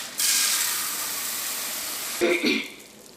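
A sharp sizzle erupts and hisses steadily as chana dal drops into hot ghee, followed by a brief clatter of stirring.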